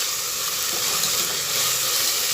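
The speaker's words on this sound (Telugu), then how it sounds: "ఇది కొంచెం బాగా ఫ్రై అవ్వాలి" Green chillies, onions, mint and coriander fry in oil in a pan, producing a dense, continuous sizzle that stays loud and close throughout with no voices.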